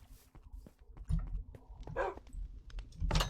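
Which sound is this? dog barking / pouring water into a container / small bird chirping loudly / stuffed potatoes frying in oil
dog barking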